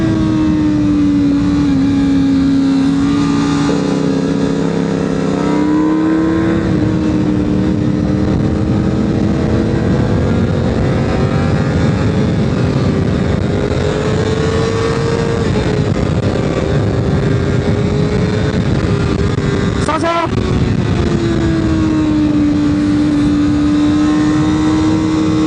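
A CFMOTO 500SR sport motorcycle is ridden hard on a race track, its engine loud and close, rising and falling in pitch through repeated gear changes, with a sharp shift near the end and no voices.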